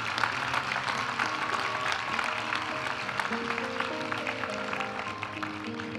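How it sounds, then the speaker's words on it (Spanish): Applause at a university graduation ceremony for master's graduates in operations and logistics, a steady wash of many hands clapping from a large seated audience, continuous and fairly even with no voices standing out. "Aplaudimos ahora a los graduados de la maestría en Dirección de Operaciones y Logística."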